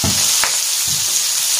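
Fish sauce splashes into hotel-style nasi goreng frying in a hot pan, a loud steady sizzle with a couple of brief bursts as the liquid hits, with no voices.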